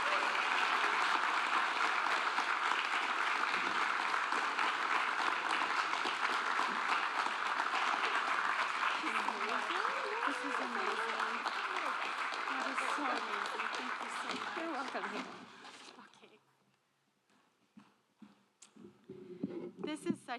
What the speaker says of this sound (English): let's give another round of applause for Carolina Allen